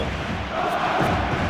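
A stadium crowd roars in a PES 2013 football match between Inter and another side, a broad, sustained swell of massed voices that rises slightly partway through and continues without a break.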